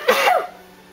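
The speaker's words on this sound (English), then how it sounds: "I'm gonna sneeze." A single short sneeze or cough-like burst from a woman indoors, close and fairly loud, lasting under half a second, then quiet.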